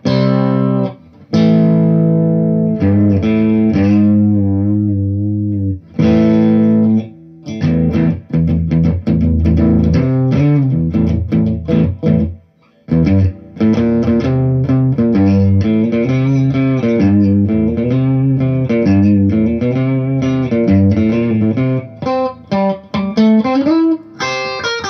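Distorted electric guitar through the drive channel of a TC Electronic Ampworx Vintage Series Deluxe '65 combo, with sustained chords and riffs played continuously and loud, with brief gaps between phrases.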